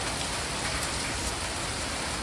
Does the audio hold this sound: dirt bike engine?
no